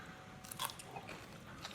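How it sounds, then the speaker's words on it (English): Teeth bite into a piece of blanched celery, giving a faint, close, crisp crunch followed by a few soft chewing clicks. "Still got crunch, even though we blanched it"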